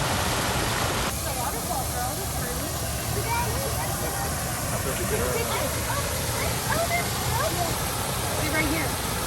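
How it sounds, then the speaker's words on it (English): Waterfall at the entrance to the African Journey exhibit of a children's zoo in Fort Wayne, Indiana, gives a steady, close rushing wash throughout, with bird chirps scattered over it and a sudden shift in tone near the start. "they have this really nice waterfall when you enter the African Journey exhibit"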